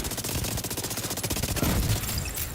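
Rapid, sustained automatic gunfire from The Division 2 rattles without pause for a couple of seconds, loud and dense, with a heavier burst or impact near the end and no speech.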